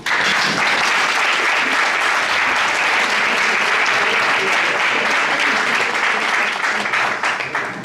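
A lecture audience at a diabetes conference on fad diets breaks into loud, sustained applause, dense clapping filling the whole stretch with no pause.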